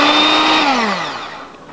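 A mixer running on low through blueberry muffin batter, a close whirring motor whose pitch drops as it winds down, then stops within about two seconds.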